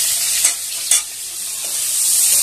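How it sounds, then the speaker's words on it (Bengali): Potatoes seasoned with salt and turmeric fry in a pan, a loud close sizzle that holds steady, with two quick scraping stirs near the start. "আলু ভেজে নিচ্ছি"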